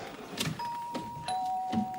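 A house doorbell chimes in a suburban home, a pair of clear electronic tones sounding one after the other, fairly quiet and a little distant against a soft background, with no talk.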